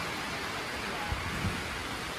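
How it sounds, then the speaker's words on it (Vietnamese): Heavy rain at night during a thunderstorm, a dense, steady hiss of rainfall filling the whole clip with a couple of faint low thumps. "Trời hiện giờ trời còn rất là mưa, rất là sấm chớp, mưa là rất lớn."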